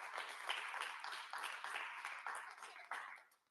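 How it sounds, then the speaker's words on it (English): An audience at a Ghana Independence Day teaching-artist gathering claps for Orkoku, a soft, fairly distant patter of many hands sustained for several seconds with slight swells, no voices over it. "Clap for Orkoku."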